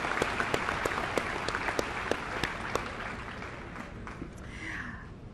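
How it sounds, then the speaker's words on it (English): Clapping at a university commencement ceremony, a steady mass of hands from a large audience with a few sharper nearby claps, fairly distant and even throughout. "You can clap, that's a reason to clap."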